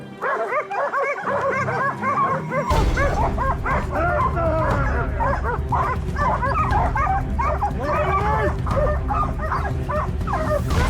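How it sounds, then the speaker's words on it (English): A pack of hunting dogs barks and yips continuously through a wild boar chase, dense and overlapping, some nearby and some farther off, following a brief quieter start. "our hunting dogs never gave up the chase"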